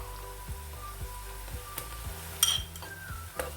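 Garlic ginger paste frying in oil in a pan gives a continuous close sizzle with soft periodic stirring scrapes and a brief metallic clink midway, no talking.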